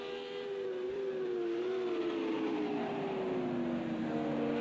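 Race car engines, an Audi and a Porsche battling for position at Spa in a sim racing game, drone continuously with a steady, slowly falling pitch, loud and close, with no gaps.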